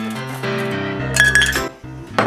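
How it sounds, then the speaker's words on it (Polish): Ice cubes poured into the bottom half of a cocktail shaker, giving close, bright clinks and rattles in a few quick bursts with short pauses between them. "weźmiemy shaker, dolną część shakera, nasypiemy nieco lodu"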